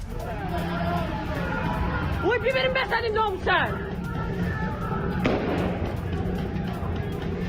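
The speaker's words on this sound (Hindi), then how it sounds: "ये देखें, प्रदर्शनकारियों पर फायरिंग कर रही है ईरानी फोर्स।" Gunfire from Iranian security forces aimed at protesters during street unrest, heard as sharp pops and a louder crack amid a constant roar of crowd noise, with shouting voices rising briefly partway through.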